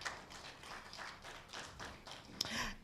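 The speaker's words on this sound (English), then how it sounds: "there can be a louder hand clap than that" Hand clapping from an audience at a law fraternity bar-bench engagement, a faint, scattered patter of claps with a louder single clap near the end.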